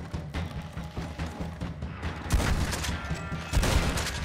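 Gunfire in Red Dead Redemption 2 Online, a steady run of rapid, close shots booming over a rumbling low end, growing louder and denser partway through.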